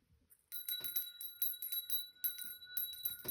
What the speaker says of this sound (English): I'll ring my little bell.